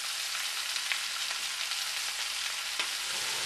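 Scallion whites and ginger slices crackle in hot oil beside seared pork belly, a dense, even sizzle with a few faint pops, heard alone without talk.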